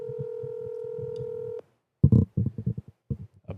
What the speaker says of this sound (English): I'm calling Brad Ellis right now, people.